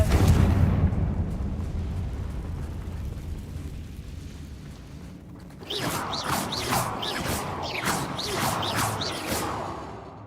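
A Confringo fire spell blast in a Harry Potter video game, a heavy rumbling explosion that fades, followed by a burst of crackling, clattering debris and whooshes.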